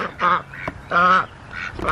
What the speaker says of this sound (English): today there are a bunch of ducks out